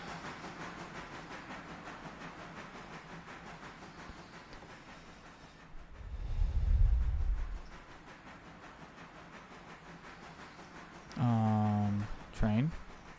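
Train rolling along the track in the railway simulation game Railroader, a steady low rumble with a swelling pass around the middle and a brief horn-like tonal blast near the end; a voice talks over it throughout.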